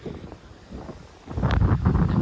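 Wind blowing across a rocky seashore at sunset, rumbling steadily in the microphone and growing noticeably louder and gustier in the second half.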